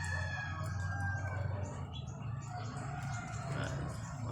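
A young fighting rooster crows, a strained, drawn-out call that rises and falls, heard nearby at moderate volume over a low background hum, with a few fainter squawks after it.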